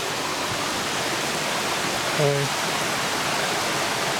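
Steady broadband rush of a creek tumbling over small waterfalls in the Blue Mountains, constant and close, with no pauses or voices.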